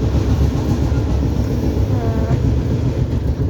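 Constant low rumble and rattle of a moving train heard from inside a carriage, steady and fairly loud with no clear voices.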